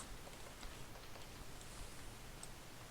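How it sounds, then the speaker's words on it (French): Rain falling in the Minecraft video game: a steady, soft, hissing wash with faint scattered ticks of drops, quiet and even throughout, with no talking. "Oh, il pleut."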